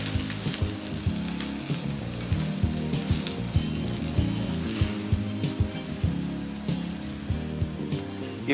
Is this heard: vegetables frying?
yes